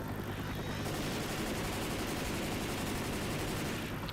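Rescue helicopter in the video game Left 4 Dead 2, a loud, steady rotor roar filling the whole stretch with dense low thumping and broadband wash, gunfire-like rattle mixed in, no talk.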